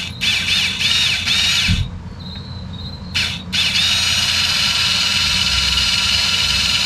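The electric parking brake caliper motor on a Lexus RX 350, bench-run from a 12-volt source, gives a high whining squeal in short bursts, then a brief pause before running steadily again, close and loud.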